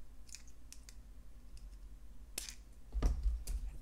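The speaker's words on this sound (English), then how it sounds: "Snip off the excess." Cutters snip excess wire while making a jumbo rose bead necklace, heard as a few faint, sharp clicks and snips close by over low background noise.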